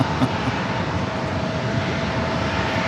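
A WestJet airliner approaching San Diego airport, its engines a steady, broadband roar that holds at an even level without a clear rise or fade, no voices over it.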